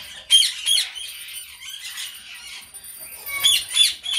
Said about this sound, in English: He is a blue Palatino Indian ringneck parrot.